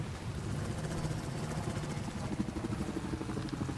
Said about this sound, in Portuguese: Cidade bonita, helicópteros passando.